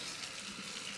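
Kitchen sink tap running lukewarm water to fill a can for watering houseplants such as Rhipsalis, Philodendron and Hoya; a steady, close broadband gush of flowing water with no voices.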